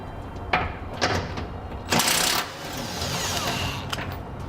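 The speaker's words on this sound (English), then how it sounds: "I'm going to be using a 21mm socket to pull it out." A 21mm socket wrench works a bumper support bolt loose on a 2018 Ram 1500, giving intermittent ratcheting clicks and metallic knocks with a longer grinding burst in the middle, close by against steady background noise.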